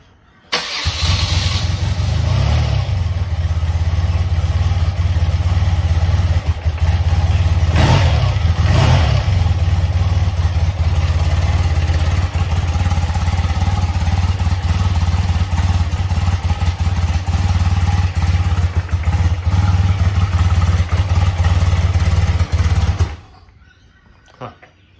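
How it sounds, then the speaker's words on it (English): A BMW R100 motorcycle engine cold-starts on a little choke, catching quickly and settling into a loud, steady idle that runs near and continuous for over twenty seconds before cutting off abruptly. "I'd do a cold start of the bike just to let you hear it."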